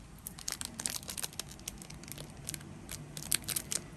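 Scissors snip off excess material from a DIY flatback flower fridge magnet in a quick series of soft close cuts mixed with faint crinkling, quiet and without talk.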